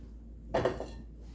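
A frying pan set on the stove for bacon and scrambled eggs gives a brief metallic clatter of a few quick clinks, then goes quiet against a low kitchen hum.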